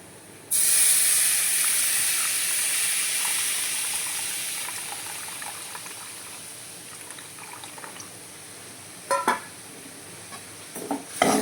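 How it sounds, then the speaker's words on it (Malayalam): Tamarind water poured into a hot pan of bitter gourd curry sets off a sudden loud sizzling hiss that slowly fades over several seconds, with a few light clinks near the end. "ഇനി നമുക്കിതിലോട്ടേ പുളിവെള്ളം ഒഴിച്ചു കൊടുക്കാം"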